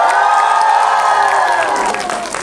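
Audience at a Korean film Q&A screening event for Zombie Daughter lets out a loud, sustained cheer with whoops and clapping, close and filling the room, fading slightly toward the end.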